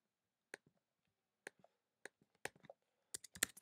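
Typing on a computer keyboard in a quiet room, with a few sparse, soft key clicks followed by a quicker burst of taps.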